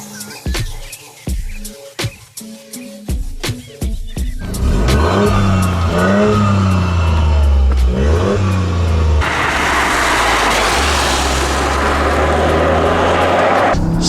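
A Toyota GR car starts with a few sharp engine blips, then pulls away on the road, its engine droning steadily with a rising gear change midway and loud road and wind roar building toward the end.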